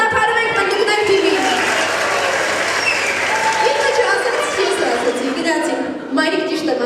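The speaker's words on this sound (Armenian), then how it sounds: "ծափարում եք պնդուկներ թիմի։" Children clap for the Hazelnuts team in a classroom game, a dense spatter of small hands with bright voices chattering and calling over it throughout.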